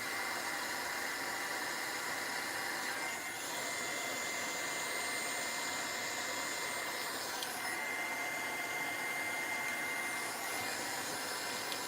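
A hair dryer blows on a glued photo, a steady, fairly quiet whirring hum that runs unbroken for the whole stretch with no speech over it.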